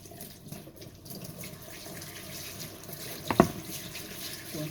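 Tap water runs steadily into a sink while celery is washed, a soft continuous splash with faint handling noises and one brief sharper clatter near the end, fairly quiet and without talk.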